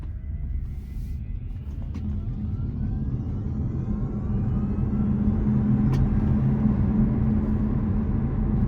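A 2014 Tesla Model S 85 electric car accelerating hard, with a rising electric motor whine over steady road and tyre rumble that builds in intensity, heard from inside the cabin without talk.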